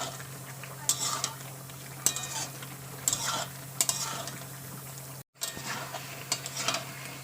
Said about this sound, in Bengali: যেহেতু আমি মশলা দিয়ে কষাইনি, তা আমি এখন কষিয়ে নেব